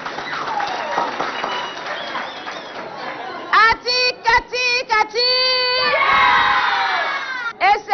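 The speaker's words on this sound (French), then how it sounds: "Applaudissez très très fort." A school audience in Biltine cheers and applauds, a lively crowd of children shouting and clapping under chatter, with loud high shouts and whoops breaking out in bursts toward the end.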